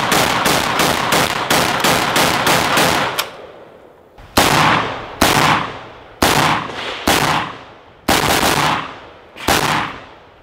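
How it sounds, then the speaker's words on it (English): Loud rapid gunfire from a Vepr 12 shotgun, a Krebs AK and a 5.45 rifle at an outdoor shooting meet-up: a fast string of about nine close shots, then six heavier single blasts spaced a second or so apart, each ringing out with echo. "we just started picking up guns off of Mr. Gunsngear's table and shooting them"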